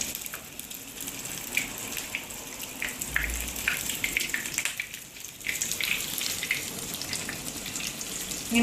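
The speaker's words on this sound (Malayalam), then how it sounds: "ഇങ്ങനെയെല്ലാം നമ്മൾ വറുത്ത് കോരിയിട്ട് നോക്കാം" Spicy fish fingers deep frying in hot oil give a steady, dense crackling sizzle that holds close and even throughout, with no voices.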